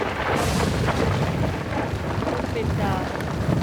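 Thunder from a strong dry-season storm on the Zambezi River in Zambia, heavy continuous rumbling mixed with loud wind buffeting the microphone.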